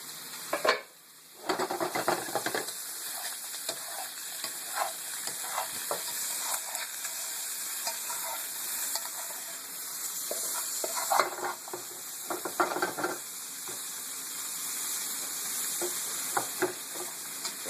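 Broccoli sizzles steadily in a covered pan over turned-up heat, a continuous close hiss broken by a few scraping stirs and clinks of the lid and utensil.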